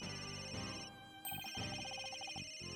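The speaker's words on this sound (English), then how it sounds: "Where's that ringing coming from?" An in-game telephone in the Ace Attorney: Dual Destinies game rings in a repeated electronic trilling pattern, two rapid bursts of ringing heard clearly with no talking.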